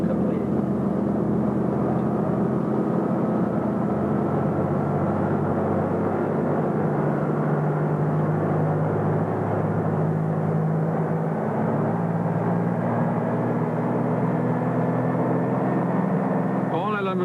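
A propeller aircraft's engine runs up before takeoff, a loud, steady drone with a low throbbing hum that holds for the whole stretch without pause.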